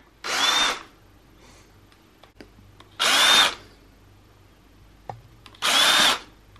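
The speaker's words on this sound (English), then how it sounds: "I'm finding drilling a pumpkin really fun." Three high-pitched bursts of a power drill whirring into a pumpkin, each about a second long, separated by pauses with faint clicks and handling noise.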